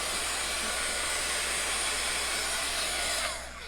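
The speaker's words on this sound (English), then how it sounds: "I'm using a heat tool, which is definitely too hot." A handheld heat tool used for crafting blows hot air with a steady, loud whooshing hiss close by, easing slightly just before the end.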